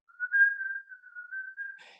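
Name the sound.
whistled classical melody from Fritz Lang's film M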